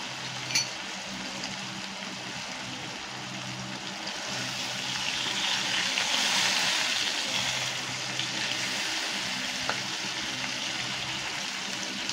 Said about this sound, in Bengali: পনিরটা এখন তেলটা গরম হয়ে গেছে, পনিরটা দিয়ে দেবো।